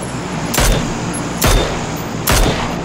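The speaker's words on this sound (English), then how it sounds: "You're taking shots, Dan." Gunfire in the video game PUBG: three sharp loud shots spaced under a second apart, each cracking with a brief booming tail, with no one talking over them.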